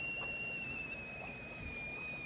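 A teapot holding liquid nitrogen gives a steady high-pitched whistle at a constant tone throughout, with a fainter higher overtone above it and a hissing rush underneath.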